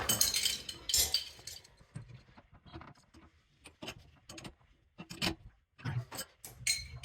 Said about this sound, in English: then we'll screw this finger tight to begin with, and then we'll use our wrenches